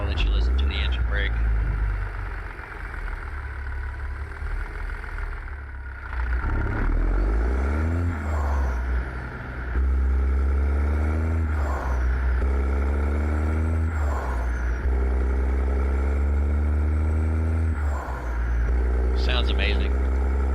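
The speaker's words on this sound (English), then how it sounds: "I'll let you listen to the engine brake." A Kenworth W900 heavy-haul truck in American Truck Simulator, its engine brake producing a deep, loud, rumbling exhaust bark that repeatedly rises and falls, with someone talking over it at times.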